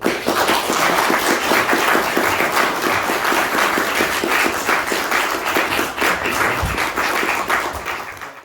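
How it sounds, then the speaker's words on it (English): An audience at a defence and security studies lecture at a Toronto military institute gives steady, full applause, many hands clapping evenly throughout before it gradually tapers off at the close. "if we could just give him a round of applause for all the effort he put in"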